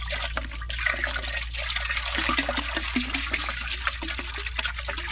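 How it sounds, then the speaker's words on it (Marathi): Pesticide spray solution for mango trees is stirred into water, giving a steady churning, gurgling wash of liquid that stays fairly loud and continuous throughout, with a low hum beneath. "सर्व औषधं आता आपण पाण्यात टाकून घेतलेले आहे. याला मिक्स करून घ्यायचं पूर्ण"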